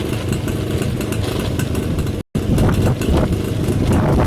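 Engine of a Suzuki Crystal motorcycle running steadily while riding around, a loud, continuous mid-pitched drone with a faint clatter, broken by one very short dropout near the middle.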